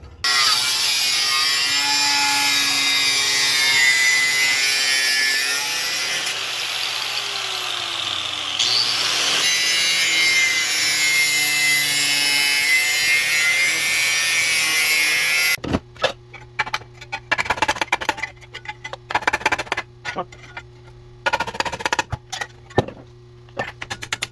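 Metal car floor patch panel for a Ford Fairmont being trimmed with a power tool, a long loud steady grinding whine that shifts pitch, then choppy bursts of cutting with short pauses.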